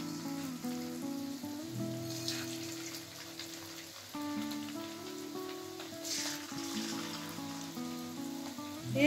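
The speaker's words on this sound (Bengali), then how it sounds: "এবার আমি একটা একটা করে চিকেন দিয়ে দেবো, দিয়ে ভেজে নেব।" Chicken pieces fry in rice bran oil in a wok over medium flame, giving a soft, continuous crackling sizzle. The frying is quiet and sits under steady tonal background music.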